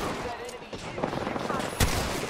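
Gunfire in the Apex Legends battle royale game, with scattered shots over a busy mix of game noise and a single sharper report near the end, moderately loud throughout.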